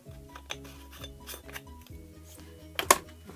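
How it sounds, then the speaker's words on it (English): A lid fitted onto a tall snowflake box, a sequence of light hard taps and scrapes with a sharper clinking knock near the end, close and alone. "Put the lid on."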